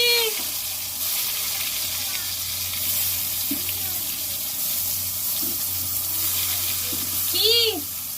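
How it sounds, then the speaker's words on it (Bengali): Slices of pointed gourd (potol) frying in hot oil in a wok, a steady close sizzle with a few faint scraping stirs, running without speech. "কড়ার তেল গরম হয়ে গেছে, পটলগুলো দিয়ে দেব।"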